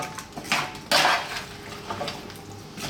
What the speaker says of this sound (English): We're just going to give this a nice little mix in the pan